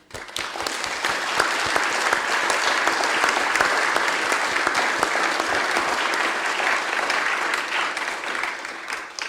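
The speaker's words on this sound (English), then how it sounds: "Just want to give everybody a massive round of applause" Audience at an annual council meeting giving a sustained round of applause, dense clapping that rises quickly and holds steady and loud before dropping off at the end.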